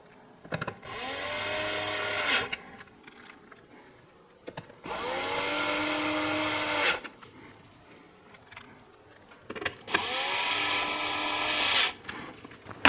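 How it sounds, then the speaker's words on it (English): A power driver runs screws into the corners of a Vizio TV's power board, three separate whirring bursts of about two seconds each with a rising pitch at the start, spaced by short quiet gaps. "Now we're going to install the 3 screws on the corners."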